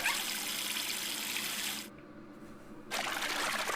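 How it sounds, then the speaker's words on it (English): Water from a tap in the video game Zero Time Dilemma rushes in a steady hiss, cuts out for about a second, then gushes back on just as strongly. "If we turn on the water, or if we turn the water on"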